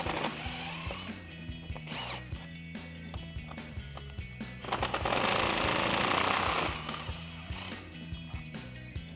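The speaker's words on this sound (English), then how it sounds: "So I'm going to take a 10mm socket and my impact wrench and remove those." An impact wrench with a 10mm socket removes bolts holding the intake tube to the upper radiator support on a Jeep Wrangler JL, giving a loud, rattling burst of hammering midway among nearby clanks and handling noises.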